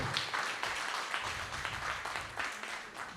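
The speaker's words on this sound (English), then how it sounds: "Can we give our panelists a round of applause" A university winter school roundtable audience applauds its panelists, a moderate, somewhat distant patter of clapping lasting a few seconds.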